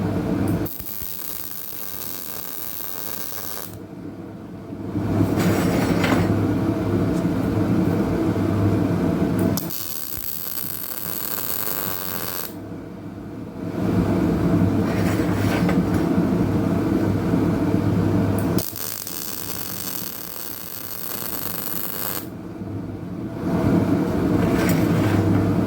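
An angle grinder blends out welds on a steel horseshoe stand, loud harsh grinding in three long bursts separated by quieter pauses, close and continuous.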